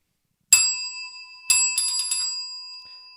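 A bell rung during a basketball podcast: one sharp metallic ding, then after a pause a quick cluster of several rapid rings, bright and close with a long ringing tail, no talk over it.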